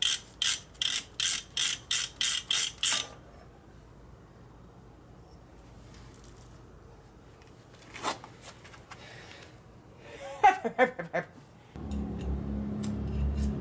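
Ratchet with a big socket working on a Dana 44 axle during a rebuild, giving a rapid string of loud, close clicking strokes at the start, then quiet rustling and a few scattered clanks.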